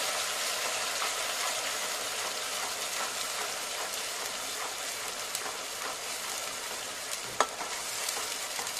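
A ground paste of green chili, ginger, garlic and coconut frying with onion in hot oil for chole masala, a constant dense sizzle with occasional sharper crackles and stirring scrapes, close and steady, with no talking.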